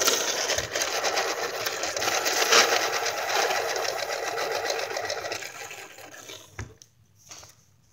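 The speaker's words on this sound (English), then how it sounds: "sharpen this pencil." A colored pencil being sharpened in a pencil sharpener, a steady whirring grind that runs for about six seconds, fairly close and loud, then stops, followed by a few soft clicks and handling noises.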